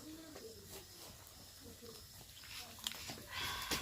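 Vadas fry in hot oil with a steady bubbling hiss and sizzle throughout, growing a little brighter toward the end, while people talk nearby.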